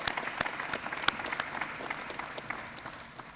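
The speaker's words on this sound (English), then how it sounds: "Let's give him a round of applause for that." Applause from a seated audience at a military change of command ceremony for a field hospital, a steady patter of many hands clapping at moderate distance, irregular sharp claps standing out, with no talk over it.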